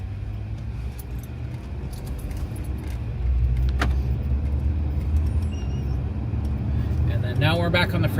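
A car cruises on the 10 freeway in Los Angeles, heading eastbound from the 9th Street on-ramp, with a steady close road and engine roar that thickens partway through and a brief rattling jangle near the end.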